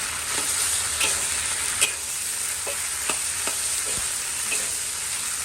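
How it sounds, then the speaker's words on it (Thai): Pork and garlic stalks stir-fried dry in a pan after sauce has been added: a steady close sizzle with a scrape or clack of the spatula every half second or so, no voices. "เราจะผัดให้แห้งนะคะ"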